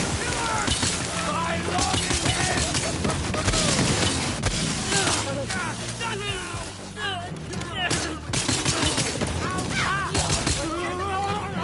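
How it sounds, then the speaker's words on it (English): Gunfire from a Borderlands 3 fight crackles and shatters continuously amid chaotic game effects, with voices talking throughout. "Where are these shots coming from?"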